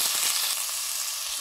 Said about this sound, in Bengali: এবারে গাড়ুগুলো হালকা ভেজে নিচ্ছি।